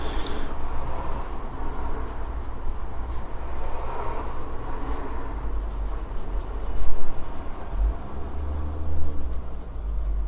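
A Lamy Safari fountain pen nib glides across paper in a soft, continuous scratchy whisper of strokes over a low steady hum, with no voices.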